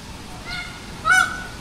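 A few geese honk, one faint call then one sharper, louder honk, over a soft background hiss.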